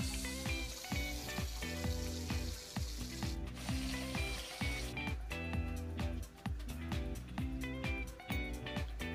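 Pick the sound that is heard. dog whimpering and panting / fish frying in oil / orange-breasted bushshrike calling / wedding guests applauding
fish frying in oil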